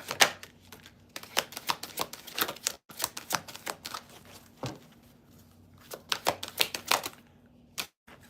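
Tarot cards shuffled and flicked by hand at a live reading table, a long run of crisp rapid riffling bursts and card snaps, close and fairly quiet, with brief pauses between shuffles and no talking.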